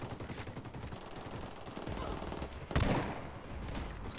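A shotgun in the tactical shooter Ghost Recon Wildlands booms once at moderate loudness against a low, steady game background.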